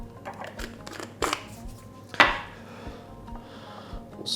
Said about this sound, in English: stir our saffron into the coffee. Using our tiny wooden spoon